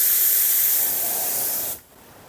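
A spray gun laying lacquer onto the flat panels of a subwoofer box, a loud, steady close hiss that stops abruptly near the end, leaving quiet room tone.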